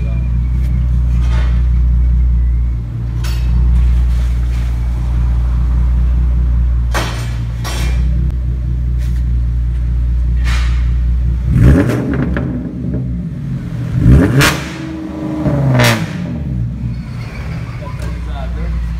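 A Chevrolet Omega V6 with a straight pipe exhaust and no catalytic converter, idling with a deep rumble, then revved hard twice with rising and falling engine roar, close and loud, with people talking.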